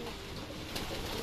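A tired, lost racing pigeon, sheltering in a loft that is not its own during rainy weather, gives a soft, faint coo against low, steady background noise.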